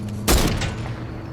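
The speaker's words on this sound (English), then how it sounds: "Hit it with a heavy sniper." A heavy sniper rifle fires once in a video game, a single sharp, loud blast with a short booming tail fading under background game noise.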